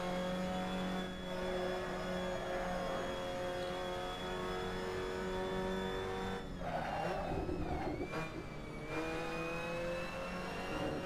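A race car in Assetto Corsa at Bathurst drones steadily at high revs, then spins out about midway, with a burst of tire skidding and squeal before the engine settles back into a steady tone.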